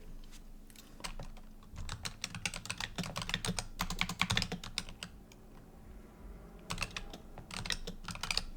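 Someone types on a computer keyboard in quick, uneven bursts of clicking keystrokes, with a short lull before the tapping resumes, close and fairly quiet.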